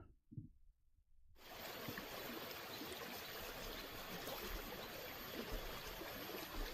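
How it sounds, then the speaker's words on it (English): Flowing river water in the Fortnite video game, a steady broadband rush and trickle that starts abruptly after a brief quiet moment and continues evenly at close range. "Ooh, wait, the rivers."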